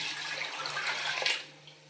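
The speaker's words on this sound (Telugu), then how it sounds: "వాటర్ పోసుకుంటున్నాం అండి ఇప్పుడు మనం" Tap water runs and pours into a pot for cooking rice for prawn biryani, a steady gentle splashing stream, fairly close and soft, tapering off at the end.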